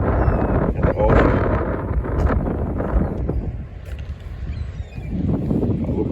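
Wind buffets the microphone at Coney Island beach, a steady loud rushing roar that eases for a moment before gusting again, with no one talking over it.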